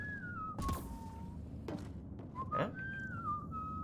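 The character Liam whistling in the video game Mass Effect Andromeda, a clear, close, wavering tune broken by a few thuds and bumps, with a brief spoken word partway through.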